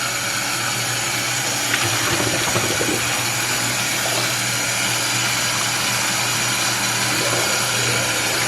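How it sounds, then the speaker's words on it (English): Cold tap water runs steadily over freshly boiled eggs in a kitchen, producing a constant, close rushing hiss with faint clinks beneath it. "now I'm just going to get these run under cold water to stop the cooking"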